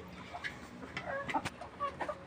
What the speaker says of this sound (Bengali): এই তো মুরগি খাচ্ছে।